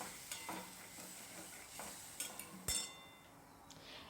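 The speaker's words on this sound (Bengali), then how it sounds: "মশলা থেকে যতক্ষণ না পর্যন্ত তেল ছেড়ে আসছে ততক্ষণ কিন্তু মশলাটা খুব ভালো করে কষিয়ে নেব" Spice paste frying in a little oil in a pan for a drumstick curry, with soft sizzling under repeated scraping stirs and a few clinks of a utensil against the pan, no speech.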